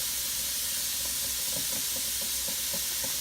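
Chopped garlic sizzling with finely chopped onions in a hot pan, a dense continuous frying hiss with soft stirring taps throughout.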